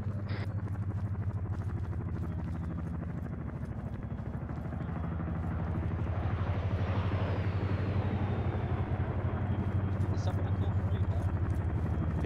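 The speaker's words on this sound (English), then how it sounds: "That's a chinook." A Chinook helicopter in the video game Arma 3 gives off a continuous low rotor thrum and engine drone that holds steady throughout and swells slightly toward the end.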